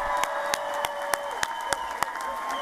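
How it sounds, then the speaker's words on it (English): Graduates cheered at the Warner Pacific University 2022 spring commencement: steady crowd applause with a few sharp, evenly spaced louder claps standing out, filling the whole moment without speech. "let's give our graduates a roaring cheer."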